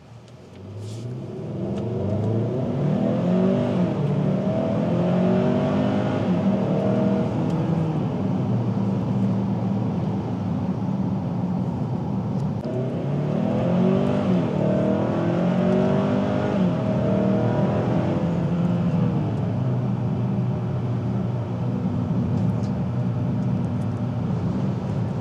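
A 2025 Hyundai Santa Cruz pickup accelerates in normal drive mode, engine note rising through gears in two long sweeps, a steady loud rumble heard from inside the cabin with no talk.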